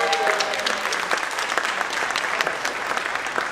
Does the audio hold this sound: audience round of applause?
yes